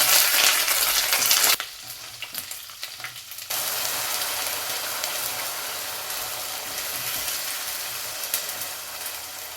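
Chopped garlic, green chilies and ginger frying in hot oil and being stirred, a loud dense sizzle that drops briefly then resumes steadily, close to the pan.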